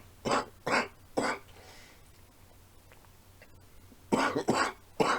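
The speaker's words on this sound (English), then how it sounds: "coughing from weed" Harsh coughing fits from someone after smoking weed: three sharp, loud coughs at the start, a quiet stretch, then another burst of three coughs near the end, with no talking.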